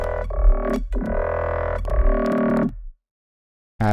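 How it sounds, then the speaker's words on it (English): A buzzy, heavily distorted electric tone from an effects unit holds for nearly three seconds, cuts to silence, then returns abruptly near the end, loud and up close. "And then it has like this like distortion sound."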